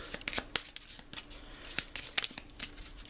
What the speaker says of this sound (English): We're going to shuffle this